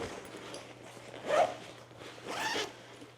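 Zipper on a travel bag compartment drawn twice, two short rasping pulls about a second apart, close and clear over quiet room tone.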